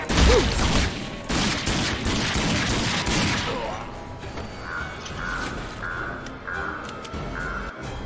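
Rapid gunfire from shooting enemies in the post-apocalyptic shooter RAGE, a dense burst of loud shots up front that gives way to mechanical clatter and a repeating electronic tone.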